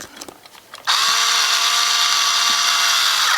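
A power screwdriver drives screws into a scale RC crawler truck wheel fitted with foam inserts, a steady loud whirring motor that starts abruptly after a few faint handling clicks and runs on without a break.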